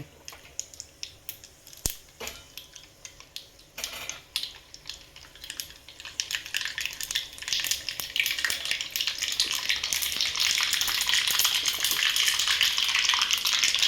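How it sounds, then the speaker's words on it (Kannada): Mustard seeds hit hot oil in a pan: sparse crackles and pops at first, building after a few seconds into a loud, continuous sputtering sizzle that holds steady to the end. "ಎಣ್ಣೆ ನೋಡಿ ಕಾಯ್ತಾ ಇದೆ. ಇದು ಸಾಸಿವೆನ ಒಂದು ಸ್ವಲ್ಪ ಅದ್ರಲ್ಲಿ ಹಾಕಿದ್ದೀನಿ."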